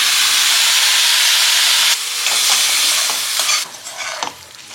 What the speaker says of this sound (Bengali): তো একটু নাড়াচাড়া করে নিয়েছি।